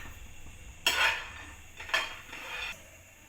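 Peanuts roasting in a pan on a stove, two or three bright rattling scrapes and clatters as they are tossed and stirred, close by over a quiet background, with no talking.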